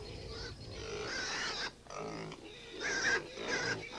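Pigs raised outdoors in a barnyard grunt and snort in several short bursts, fairly close, with brief pauses between the grunts.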